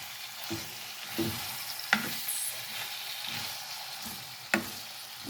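Beef being stir-fried with already-cooked garlic in a pan, a steady low sizzle with a few sharp scraping clacks of a utensil against the pan, alone with no talk.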